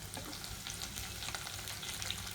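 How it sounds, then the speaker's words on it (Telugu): Tomato pieces frying in a pan with a steady crackling sizzle and occasional stirring scrapes, close and continuous with no talking. "వేసి టమాటా మెత్తపడే వరకు వేయించాలి."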